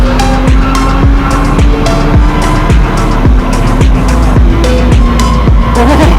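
A 2023 Honda CBR1000RR-R Fireblade SP motorcycle accelerates hard, a loud, close, continuous engine roar with a steady tone and rapid repeated pulses throughout.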